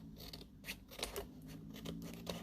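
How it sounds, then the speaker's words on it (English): Scissors trimming paper card for a Stampin' Up! gnome holiday card, a quiet run of close snipping and scraping cuts with no talk. "can't get my scissors to work, so I'm just going to trim that there"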